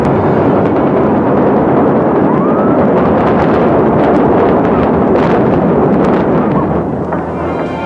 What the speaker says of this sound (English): the famed sign and hotel were timed to implode with the cannon blast